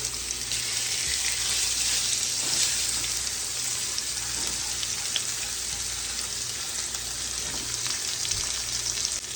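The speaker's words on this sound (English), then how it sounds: "So just gonna cook these quick in the oil." Fish fillets sizzle steadily in hot oil in a skillet, a loud, continuous crackling hiss with faint scattered pops throughout and no talking.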